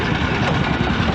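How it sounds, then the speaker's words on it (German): Heavy motor driving a sugarcane juice press at a street stall in Pakistan, a loud, steady, close rumbling drone with an even throbbing pulse. "Er hat gleich hier den fetten Motor mitgebracht"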